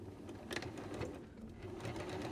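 A sewing machine runs continuously up close, stitching along and binding a fabric edge for a baby hat, with a steady rapid mechanical rhythm and no talk.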